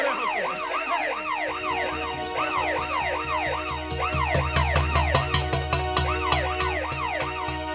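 An ambulance siren wails in a steady rising-and-falling pattern, loud and close, with low engine rumble and traffic noise underneath and no one speaking.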